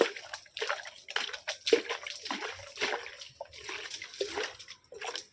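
Water sprays and patters over potted garden plants at close range, coming in uneven bursts of splashing and dripping.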